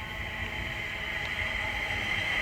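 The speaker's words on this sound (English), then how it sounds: "behind me is the 14:37 London Northwestern Railway service from Birmingham New Street to Liverpool Lime Street" A London Northwestern Railway Class 350 electric train, units 350-242 and 350-252, runs through Stafford on the West Coast Main Line, giving a steady, loud rumble with a high whine that holds throughout.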